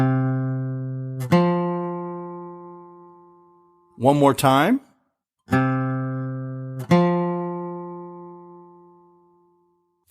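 Sustained notes on a melodic instrument form a perfect fifth interval, struck four times with long ringing decays, and a voice briefly speaks between the notes.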